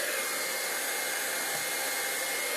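A heat tool melting embossing powder blows a steady, loud hiss of hot air without pause, like a hair dryer running close by.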